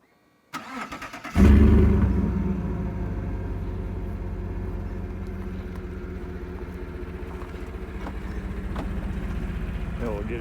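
A 2017 Chevy Silverado Z92 lifted pickup starts remotely with a starter crank and sharp engine catch, then settles into a steady, rumbling idle heard from outside the truck.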